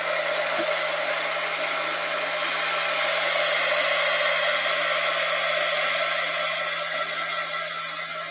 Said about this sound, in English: now I'm going to heat gun this to dry it